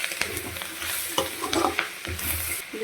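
Drumstick leaves and grated coconut sauté for chutney in a hot pan, a steady close sizzle broken by repeated scraping strokes of a spatula stirring through the greens.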